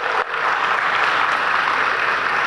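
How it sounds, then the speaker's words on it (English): An audience at a mayor's town hall meeting gives a steady round of applause for a young girl, a loud, continuous wash of many hands clapping with no voices over it. "Give her a big round of applause."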